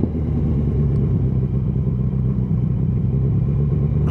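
A motorcycle in second gear on a twisty mountain road between Dalen and Evje in Norway, its engine a loud, steady, close drone with a low rumble throughout.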